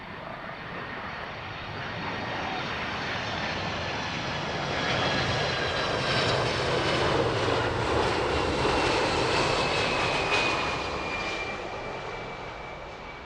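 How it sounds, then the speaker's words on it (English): A 31-year-old United Boeing 767-300 jet airliner in from New York lands at Heathrow, its broad engine roar swelling to a loud peak midway and then slowly easing off, heard alone without voices. "United 904. This is in from New York. 767-300."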